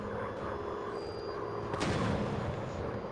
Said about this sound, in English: Is that you shooting at me or is that them shooting at me?